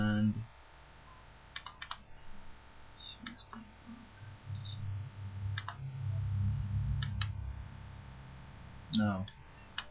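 Sparse clusters of computer keyboard keystrokes and clicks, close and quiet, with a low hum and faint breathy voice sounds between them.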